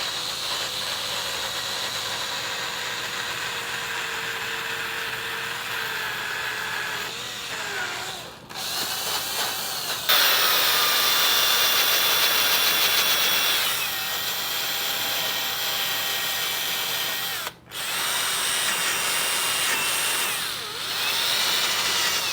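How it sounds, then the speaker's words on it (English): A power drill whirs steadily with a rotary sanding attachment grinding against wood in detailed areas, pitch shifting as pressure changes, with brief pauses and restarts. "I'm going to put this in my drill. And I'm going to try to sand some detailed areas."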